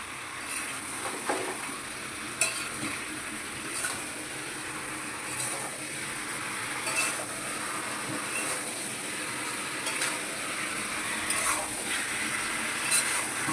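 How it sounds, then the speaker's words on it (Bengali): Chicken curry masala frying in a pan while it is stirred: a continuous close hiss with occasional soft scrapes and clicks from the stirring, steady in level throughout and free of speech. "এবার আমি একটু ভালো করে কষবো এটাকে"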